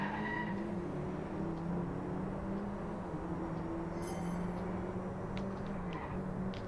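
Race cars in the DRIVECLUB video game hold a droning engine note with a shifting, whining pitch as the race starts, plus a few faint clicks, steady and moderate with no talk.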